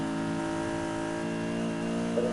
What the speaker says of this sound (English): The engine in this one does sound like a V8